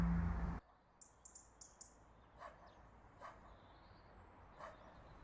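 Inside the childhood horror video game Bonbon, a loud burst cuts off abruptly, then a dog barks a few times, faint and distant, between short high chirping tones.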